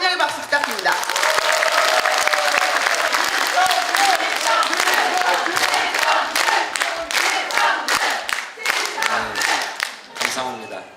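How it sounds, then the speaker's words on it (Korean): A large audience at a policy forum in a National Assembly conference hall gives loud, dense welcoming applause, sustained throughout with a few shouts and voices mixed in. "큰 박수로 마지막으로 환영의 박수 부탁드립니다."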